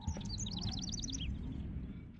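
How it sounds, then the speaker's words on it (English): Bird indoors inside a house in the Life is Strange video game, a quick run of bright high chirps over a low background rumble. "But there's another bird in the house."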